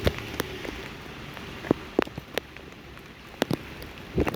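Rain falling at Ujjayanta Palace in Agartala, a steady soft patter on surfaces with scattered sharper drips and taps standing out at close range, no talk.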